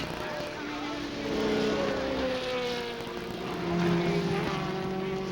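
1975 Formula Atlantic race cars at speed, engines whining and shifting pitch as they pass, with a broadcast commentator talking over the steady mechanical drone.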